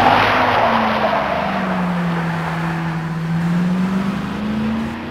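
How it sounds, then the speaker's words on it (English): A car tears away frantically toward the Las Vegas Strip, its engine note rising and falling in a long sweeping whine that swells and fades, loud and close, with no voices. "Suge Knight took off driving frantically towards Las Vegas Strip."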